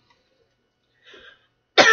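A single sharp cough bursts out at the very end after near silence, preceded by a faint brief murmur.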